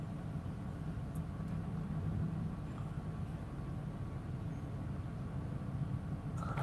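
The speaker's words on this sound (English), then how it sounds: "My truck's too noisy. I got one of these new plastic Peterbilts." A newer plastic-bodied Peterbilt truck drones steadily while driving down the road, a continuous low cab rumble with road noise, close and moderately loud, with no speech.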